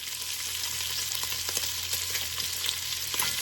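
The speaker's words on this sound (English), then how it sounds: "So we're going to let that saute for a few minutes." Cubed bacon sautés in its own grease in a pan, a dense steady sizzle with scattered crackles and pops, close and moderately loud, no voices.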